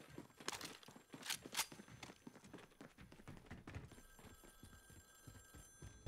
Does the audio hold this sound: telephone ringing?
yes